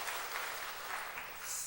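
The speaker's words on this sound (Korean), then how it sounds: "우리 박수로 한번 환영하겠습니다" A church congregation applauds to welcome a visiting pastor to the pulpit. The clapping is soft and distant, a steady wash of hands without any break.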